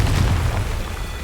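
A Confringo spell blast in Hogwarts Legacy, a single deep booming explosion with a heavy low rumble that fades over about a second.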